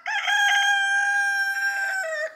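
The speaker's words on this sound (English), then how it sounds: "Roosters are crowing." A rooster crows once on a family property during a total solar eclipse, a loud, close, harmonic cock-a-doodle-doo lasting over two seconds, heard alone.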